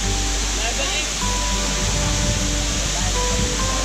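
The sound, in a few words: Aguinid Falls waterfall in Samboan, Cebu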